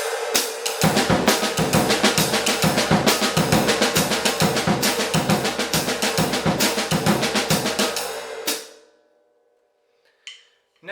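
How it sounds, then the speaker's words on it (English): Jazz drum kit playing a syncopated triplet pattern, bass drum reading the written rhythm while the snare fills in the missing triplets, steady and loud for about eight seconds before stopping, with a faint brief tap afterward. "The next example, bass drum reads, snare drum fills in the missing triplets."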